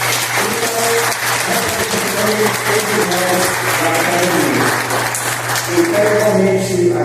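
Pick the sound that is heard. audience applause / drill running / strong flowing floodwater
audience applause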